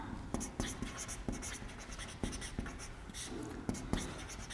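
Chalk or marker scratches and taps against a board during a chemistry lesson, in short irregular strokes and clicks close by under a steady room hum.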